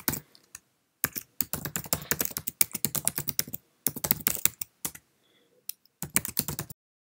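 Close, crisp clicking as someone types an email address on a Mac keyboard, with quick bursts of keystrokes separated by short pauses and no talking.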